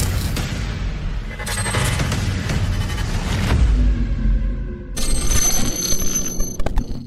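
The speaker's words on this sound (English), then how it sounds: "If you can hear a really annoying alarm in the background, I do apologise." A loud electronic alarm rings and wails steadily in the background through the whole stretch, a repeating bell-like tone that swells and drops over a low rumble, with no voice on top.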